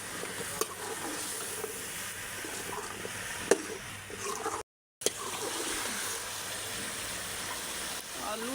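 Water goes into a pan of frying potatoes and masala, setting off a sustained sizzle and bubbling hiss with a brief gush, a short gap partway through before the frying noise resumes.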